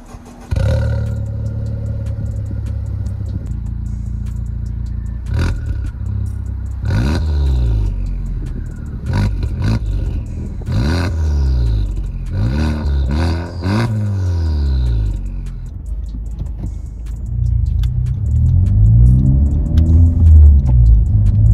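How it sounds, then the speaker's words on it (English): A Honda Civic Type R (FK8) with an HKS Spec L V2 exhaust starts and settles into a deep, throaty idle, then blips the throttle several times with loud, rumbling revs before easing back. "start the car and hear what it sounds like when, uh, when it's idling"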